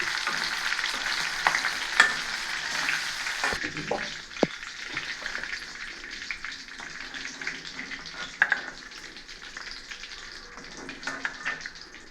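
Crushed garlic and slit green chillies frying in hot oil, a steady loud sizzle with a burst at the start and occasional clinks of stirring throughout.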